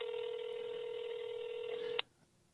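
Telephone tone from a call placed during a talk show, a single steady electronic tone held for about two seconds before cutting off abruptly, clear and alone.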